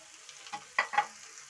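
Boiled pasta being lightly fried and stirred in a pan with a few soft sizzling scrapes and stirring clicks, close and brief, with no talking.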